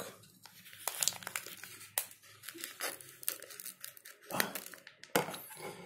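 A Turbo chewing gum packet is torn and crinkled open close up, in irregular bursts of crackling plastic with sharp rips and short pauses, and nobody speaks.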